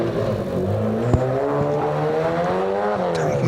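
Reece Malton's Datsun race car climbing a hillclimb course in Australia, its engine rising steadily in pitch with harmonic overtones under load, loud and close with a sharp transient midway.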